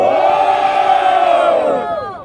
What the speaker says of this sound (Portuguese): quem gostou das rimas das Varenga, faz barulho aí